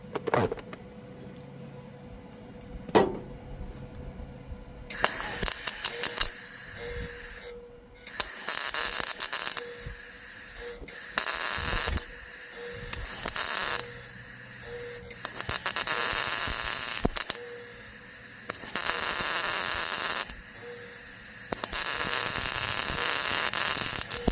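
A metal patch is welded into a car's engine bay against a copper backing piece, making loud, close, crackling buzzing bursts several seconds long, broken by short pauses and repeated again and again.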